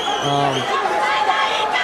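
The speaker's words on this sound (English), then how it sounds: "The crowd here is chanting Diego." Crowd noise at a Georgia MMA fight, a rhythmic chant for a fighter rising from a dense murmur of spectators, heard from a distance as a steady wall of voices.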